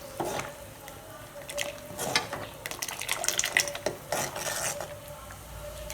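Water is poured into a simmering roadside-style tomato chutney in a pan, giving quiet sloshing and stirring sounds with soft scraping bursts spread over a few seconds.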